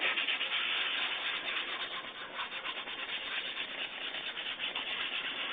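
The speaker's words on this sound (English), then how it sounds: "I'm not digging in, I'm just kind of letting the sandpaper do its thing all by itself." Sandpaper rubs by hand over a cosplay helmet in a continuous, even scratching rhythm, close and fairly loud with no talk.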